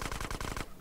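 Rapid automatic gunfire in GTA San Andreas, a burst of about six quick, evenly spaced loud shots that stops abruptly, leaving a brief quiet tail.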